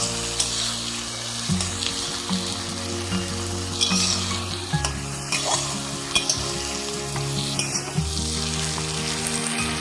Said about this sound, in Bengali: তারপরে পেঁয়াজ, ক্যাপসিকাম, টমেটো ভালো করে ভেজে নেব।